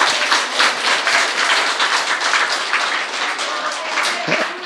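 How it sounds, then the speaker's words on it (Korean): An audience at a book concert breaks into brisk, close applause that carries on for several seconds, with a voice faintly mixed into the clapping. "박수 한 번."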